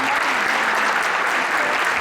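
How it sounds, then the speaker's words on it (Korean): Audience at a youth football club's new-member welcome party applauding the club president, a dense continuous wash of clapping with faint voices mixed in. "우리 이인영 회장님께 박수 한번 보내주시기 바랍니다"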